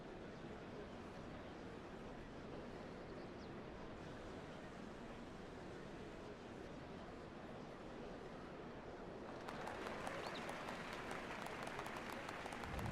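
In Final Fantasy XIV: Dawntrail, a large crowd claps and cheers in a dense, continuous wash of sound. It heard softly at first and then swells louder near the end.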